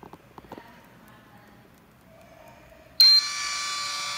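An electric valve actuator driven by a 12 volt DC signal starts up partway through, giving a sudden steady high-pitched motor whine that continues to the end after a quiet stretch of faint clicks and handling.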